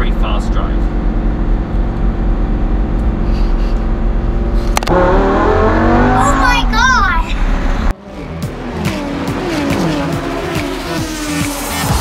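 A Lamborghini Huracan Spider driven fast gives a loud sustained engine roar that rises in pitch through the gears, then cuts to a rougher rumbling drive with passing wind noise.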